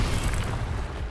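Expelliarmus spell cast in the game Hogwarts Legacy, heard as a brief, dense rumbling burst with a boomy low end that holds steady for about a second, with no talking over it.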